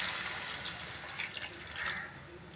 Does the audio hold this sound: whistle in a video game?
no